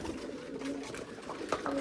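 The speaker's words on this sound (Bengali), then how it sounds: "নতুন কবুতর পেলে হয়, এটা ডাক দিতে থাকবে সারাটা দিন" Pigeons at a pigeon market in Chattogram coo faintly amid a busy, noisy background, with a few brief sharper calls near the end and no clear speech.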